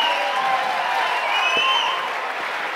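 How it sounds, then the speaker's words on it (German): Applause and cheering from a large crowd at a live lifesaving championship show, honoring a comedy police-themed act; dense, steady clapping fills the space with some voices mixed in. "Dicken Applaus für die Comedywache"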